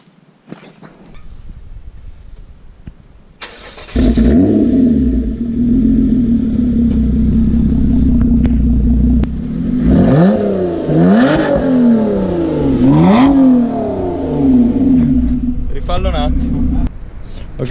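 A supercar engine cranks and catches with a sudden loud roar, then settles into a heavy idle broken by several sharp revs that rise and fall, close by and dominant.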